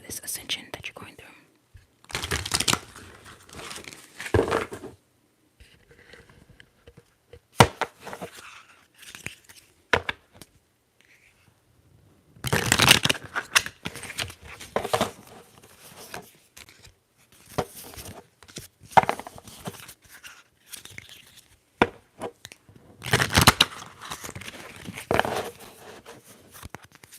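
Tarot cards shuffled: soft papery riffling and crisp card flicks come in bursts with pauses between, close by, with quiet whispered voices now and then.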